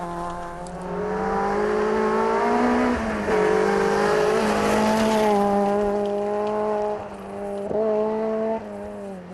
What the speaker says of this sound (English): pushing their MG to its limit and using every bit of the road